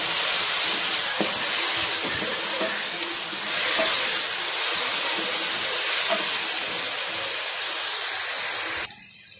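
Chopped onions hiss and sizzle loudly as they go into hot oil in a pan, a dense, steady frying roar with faint stirring taps, close up and with no voices, cutting off abruptly at the end.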